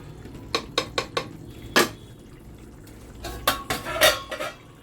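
Soybean dal being mixed in a pan after kasuri methi is added: a spoon clinks and scrapes against the metal several times in quick taps, close up over a low background hum.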